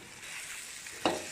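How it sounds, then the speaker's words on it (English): Chicken peratal being stirred in a pan, a quiet sizzling bed with soft scraping, then one brief sharper clack of the spoon against the pan near the end. "Stir up well until it's mixed"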